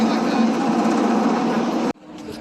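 Ride machinery starting up at Cedar Point amusement park in cold weather, a loud, steady mechanical whir and buzz that cuts off abruptly near the end and leaves quieter background noise.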